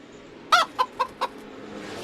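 A chicken clucks four times in quick, evenly spaced bursts at a diecast car racing event, close and clear over a low background murmur with no talk.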